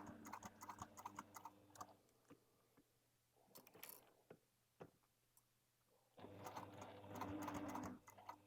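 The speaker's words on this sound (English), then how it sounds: "I'm sewing just to the right of my mark." A sewing machine stitches bag fabric in rapid mechanical bursts, stopping and restarting, with a longer steady run near the end; quiet and close, with no talk.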